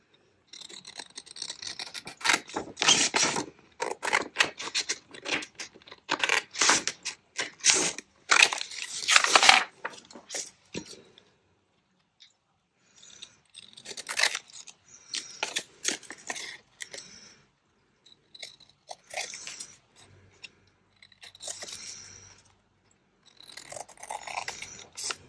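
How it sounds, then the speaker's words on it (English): Scissors cutting out a paper tag for a craft project, a series of close, crisp snipping and crunching sounds coming in irregular bursts separated by short silences. "Now I'm going to cut my tag"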